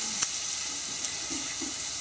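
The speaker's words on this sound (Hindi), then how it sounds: "हमारे प्याज जो है जल्दी कुक हो जाएंगे और ब्राउन भी हो जाएंगे" Onions with a pinch of salt sizzle and fry steadily in a pan for a matar paneer curry, a constant close hiss with a couple of brief stir clicks.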